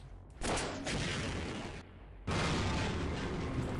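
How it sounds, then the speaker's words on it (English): A rocket launcher fires and explodes in Half-Life, producing two sustained, roaring blasts that fill the mix, separated by a brief dip, loud and close with no talking. "What is going on with this rocket launcher?"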